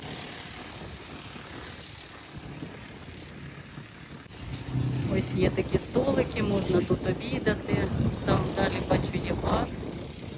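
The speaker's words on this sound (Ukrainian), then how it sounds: "Сьогодні дуже сильний вітер" Strong seaside wind on the wide Lymanskyi beach at Zatoka buffeting the microphone in loud, rumbling gusts, starting quieter and becoming heavy and continuous halfway through.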